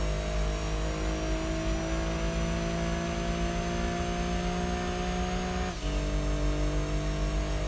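A Subaru race car engine in Gran Turismo 2 on the PS1 holds a steady high-revving drone with a brief dip as it shifts gear, then carries on, loud and continuous with no talk.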